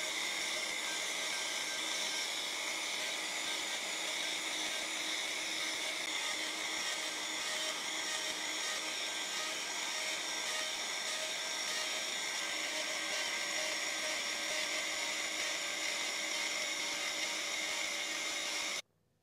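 A router cuts the contour of a wooden electric guitar neck on a jig, a loud steady high-pitched whine with rough cutting noise that holds constant for nearly twenty seconds before stopping abruptly.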